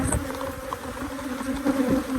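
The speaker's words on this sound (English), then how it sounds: "these aren't my favorite kind of bees" Bees buzz steadily from an urban backyard hive, a close, continuous droning hum with a slightly wavering pitch, heard alone without any talking.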